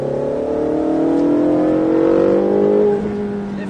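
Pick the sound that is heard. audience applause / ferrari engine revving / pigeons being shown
ferrari engine revving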